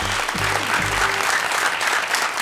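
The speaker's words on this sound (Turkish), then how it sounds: "Alkışlıyoruz yankıyı." A studio audience on a Turkish quiz show applauds in a dense, even burst of clapping that holds steady throughout, with a brief low voice or tone near the start.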